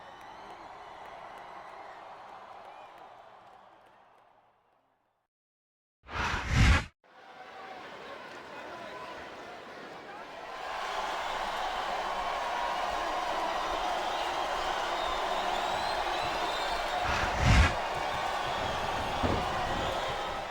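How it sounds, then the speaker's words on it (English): Arena crowd noise from the WWE SmackDown vs Raw 2008 wrestling game: a steady moderate roar swells in after a loud slam-like thud, with commentators' voices earlier and a few sharp impacts in the crowd later. "This capacity crowd is solidly behind their superstar."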